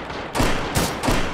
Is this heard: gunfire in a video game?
yes